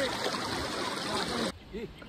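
Steady rushing of a swollen stream in the Konkan region fills most of the clip, then cuts off abruptly, leaving quieter background with a brief voice.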